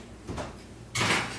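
An oven door opens or shuts as a low carb pizza goes in to bake: a soft knock, then a loud, broad clunk and rush near the end, close by with no talk.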